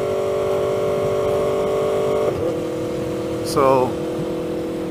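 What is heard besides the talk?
Aprilia Tuono V4 motorcycle engine revving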